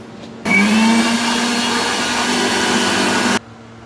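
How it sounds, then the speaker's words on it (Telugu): A mixer grinder whirs loudly and steadily for about three seconds while blending biryani masala ingredients, starting abruptly and cutting off cleanly, with quiet room tone before and after. "ఇప్పుడు అన్నీ మిక్సీ చేసుకోవాలి."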